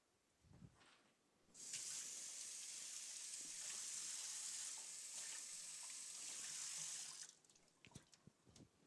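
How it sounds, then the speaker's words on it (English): A leek rinsed under a running cold-water kitchen tap: a steady, loud hiss of flowing water that starts abruptly, holds for several seconds and cuts off, with faint knocks and handling before and after. "feather the leek like this, open it up, and run it under cold water"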